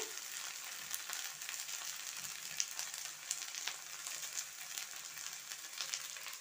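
Spices sizzle steadily in a hot pan, a constant bright crackle and hiss with small pops, fairly quiet and with no voices.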